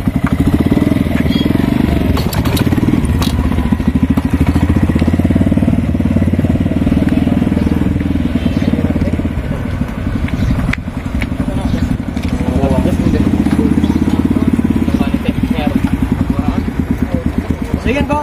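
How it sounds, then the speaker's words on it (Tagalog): Motorcycle engine running steadily after a push-start, with a broken clutch cable, idling and revving with a loud, close, continuous clattering putter for the whole stretch. "itulak po yung motor sabay filmera"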